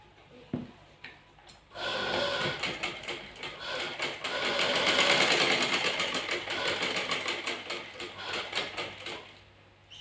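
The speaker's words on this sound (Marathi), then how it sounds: "आता मी काही तिच्या ब्लाऊजला टिपा मारून देते" Sewing machine stitching tucks into a sari blouse, a steady mechanical whirring that builds after a brief start, swells in the middle and eases off near the end, with faint room noise and no clear talk.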